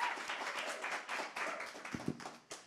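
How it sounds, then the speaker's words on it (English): A small conference audience claps together, a dense patter of hand claps that thins out toward the end, with a few sharper louder claps. "another round of applause for our guests today"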